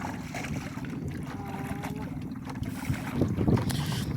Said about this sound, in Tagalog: Hinhangin itong panahon mga pre.